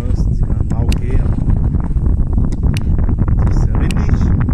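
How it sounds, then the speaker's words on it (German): Heavy wind buffeting a microphone, a constant low rumbling roar with gusty bursts throughout, loud and close. "das ist sehr windig."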